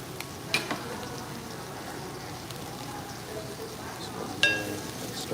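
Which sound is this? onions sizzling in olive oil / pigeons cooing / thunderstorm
onions sizzling in olive oil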